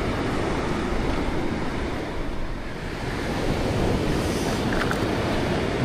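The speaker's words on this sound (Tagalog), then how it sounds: "Ang dagat ay lumakas na, lumaki na." Continuous roar of rough ocean surf crashing on shore during a typhoon at Dinahican, Infanta, Quezon, loud and steady, with wind buffeting the microphone throughout.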